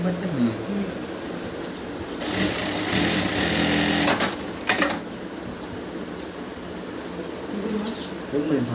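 A Singer sewing machine stitches in a steady rapid mechanical run that speeds up in the middle with a loud whirring burst, then slows again, heard close with faint background noise.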